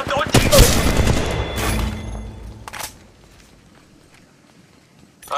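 Bursts of rapid gunfire ring out in the mobile battle-royale game Apex Legends Mobile, with loud clustered shots early on, a few more cracks after, then a quiet stretch before another burst at the end.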